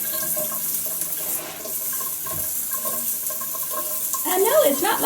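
Water from a shower runs in a steady hiss, with a dog nearby and soft splashing that grows busier toward the end.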